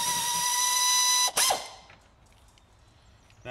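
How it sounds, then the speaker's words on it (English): An air impact gun loosens bolts on the axle mount of a Land Rover Freelander in a garage. A sustained high whine runs for over a second, breaks off, and then gives one short burst before quiet shop noise and a brief clatter. "I'm going to use my little air gun, just to"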